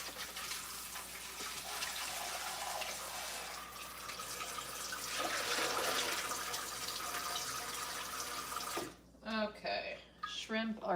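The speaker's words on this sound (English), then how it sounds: "And then we're going to rinse the shrimp." Shrimp are rinsed under a running kitchen tap, a steady rushing stream of water lasting several seconds before it stops and a voice speaks briefly.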